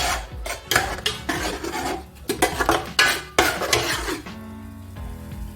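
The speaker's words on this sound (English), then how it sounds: "So I'm just going to fry my paste with the oil." Pepper paste frying in oil in a pot for efo riro vegetable soup, loud close sizzling with repeated scraping stirs of a spoon against the pot, then settling into a quieter hiss.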